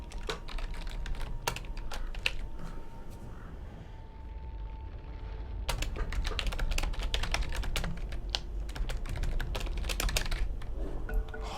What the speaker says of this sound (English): Sorry for my loud typing.